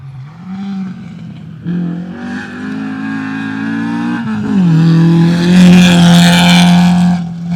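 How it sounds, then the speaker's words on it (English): A Class A Toyota Starlet rally car races through a gravel stage of the 2021 Canterbury Rally, its engine loud and close, revving hard through gear changes and rising in pitch as it passes. "Next car should be another one of the Toyota Starlets, the Class A ones."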